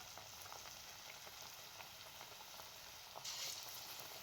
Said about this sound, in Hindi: अब इसके अंदर आलू को डिप करके गर्म ऑयल में फ्राई कर लें।